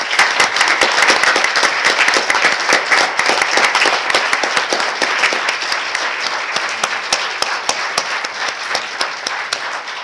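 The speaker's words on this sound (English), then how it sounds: "So let's give them one more round of applause." Sustained, dense applause fills a University of Minnesota Board of Regents meeting room, loud and steady at first, then tapering gradually toward the end.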